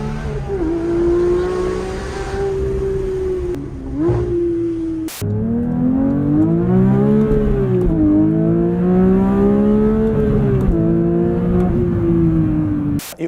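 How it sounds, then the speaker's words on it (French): A Porsche 911 GT3 Touring (992) naturally aspirated engine drones and revs steadily from inside, its intake sound rising and falling in pitch through gear changes, with a couple of sharp clicks. "on a vraiment un son qui est très particulier avec un bruit d'admission"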